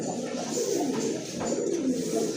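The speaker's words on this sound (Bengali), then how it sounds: "এই যে দেখেন মাক্সি এটা হচ্ছে মাদি কবুতর" Pigeons kept for sale, including a female, coo softly in a low, rolling murmur that goes on steadily, with a constant background hum behind them and no clear speech.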